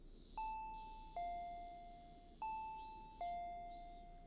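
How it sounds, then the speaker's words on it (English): Two-tone electronic doorbell chimes ring four times in two ding-dong pairs, clear and ringing out briefly over quiet background hiss in the Higurashi When They Cry video game. "I heard the doorbell ringing."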